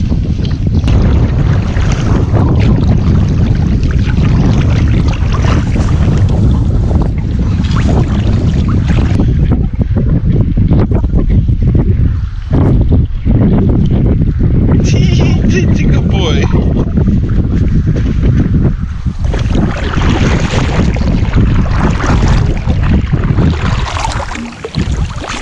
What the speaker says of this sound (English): I'll keep paddling while the wind will blow